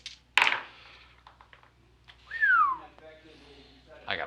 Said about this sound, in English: I gotta stop whistling like that.